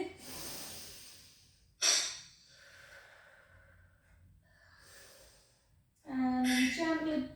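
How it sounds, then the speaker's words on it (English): Audible inhale during a pilates session, a soft breathy intake in a quiet room, followed later by a louder huffing breath; faint background sounds fill the gaps. "Take a breath in."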